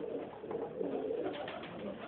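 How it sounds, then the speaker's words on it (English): Soft, low pigeon cooing from a young black cock bird, a steady murmuring purr close by with faint background noise and no speech. "A beautiful pigeon."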